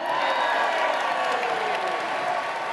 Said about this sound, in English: Give yourself a cheer.